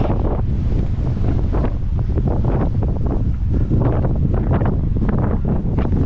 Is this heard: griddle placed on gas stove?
no